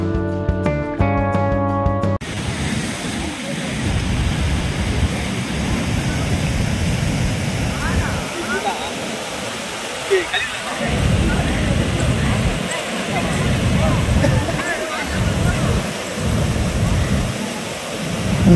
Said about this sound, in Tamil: உங்களுக்கு அந்த தண்ணி ஓடுற சத்தமே நல்லா கேட்கும்னு நினைக்கிறேங்க